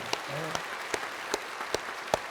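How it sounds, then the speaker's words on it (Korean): A church congregation offers applause that comes through as a handful of sharp, separate claps, about six in a slow even rhythm, fairly faint over a quiet room with a brief murmured voice early on. "여러분 박수 한번 해주세요"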